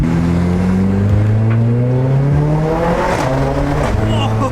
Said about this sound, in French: Oh mais on entend le turbo